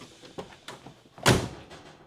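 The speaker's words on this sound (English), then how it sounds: "Does the door close? Does it latch?" A Dodge Charger crew cab door under restoration swings shut with one loud, close thump and latch at mid-clip, after several lighter knocks and clicks.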